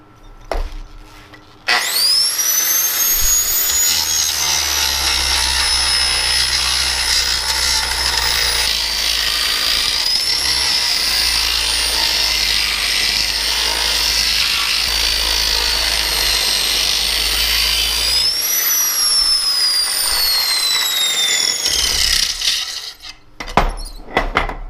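A large angle grinder, bigger than the 4.5-inch and 6-inch sizes, cutting off pipes on a gantry crane: a loud, close, continuous high-pitched whine with grinding rasp that runs for about twenty seconds, then spins down, with no talk.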